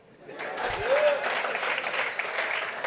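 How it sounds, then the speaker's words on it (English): Applause from a ground-breaking ceremony audience, a steady wash of clapping that rises after a brief pause and continues at moderate level. "I thought I'd get an applause for that."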